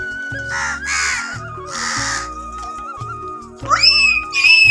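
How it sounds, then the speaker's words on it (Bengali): Crows gathered at their bathing spot give loud, harsh caws close by, several calls in quick bursts with brief gaps between them, followed by a shriller, higher cry. "কতগুলো কাক দেখি কাকে যে ছড়াছড়ি হচ্ছে আর এটা হচ্ছে কাকের সুইমিং পুল"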